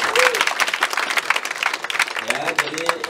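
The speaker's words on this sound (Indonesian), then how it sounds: "Tepuk tangan yang meriah." A morning seminar audience at a business training event breaks into dense, lively applause, with excited voices and cheers rising over the clapping throughout.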